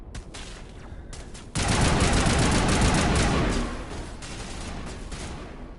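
Automatic weapon fire in the Mass Effect video game: a few sharp shots, then a loud, continuous rapid burst lasting about two seconds, trailing into quieter scattered fire.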